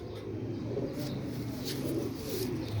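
Pigeons in a loft coo in low, repeated throaty pulses, steady and close, with faint rustling around them.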